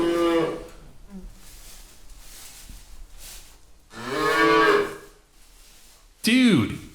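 Cows in a grassy field mooing as a sound effect, several long, loud lowing calls separated by quieter gaps, with a voice talking between them.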